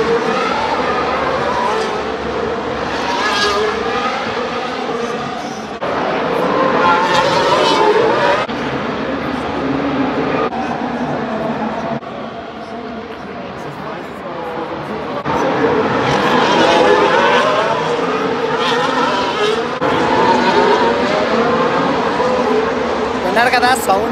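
Formula 1 race cars roaring around the Monaco street circuit, a loud sustained engine wail rising and falling as cars pass, with people talking over the engines throughout.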